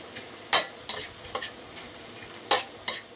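Instant noodles being stir-fried in a pan sizzle steadily, broken by about five sharp scraping strokes of a utensil at irregular intervals, close and clear, with no speech.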